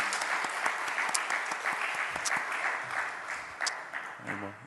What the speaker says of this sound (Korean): 우리 큰 박수로 한번 격려하면 좋겠습니다